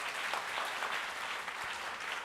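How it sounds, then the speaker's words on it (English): A conference hall audience at a student CA conference breaks into steady applause for a speaker, a dense, continuous wash of clapping heard from a slight distance and fairly quiet. "So can we all give a loud applause to her?"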